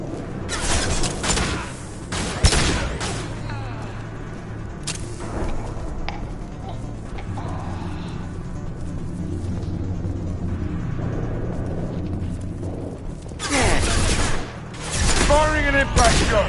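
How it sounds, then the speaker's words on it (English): A concussive shot fired in the Mass Effect 2 sci-fi shooter rings out amid ongoing combat noise, with blasts, gunfire and a steady background rumble, and bursts of louder action near the end. "Firing concussive shot."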